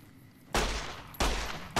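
Two loud, close gunshot blasts from Fallout New Vegas, each a sharp broadband crack with a long rumbling tail, about half a second apart, over a quiet game backdrop.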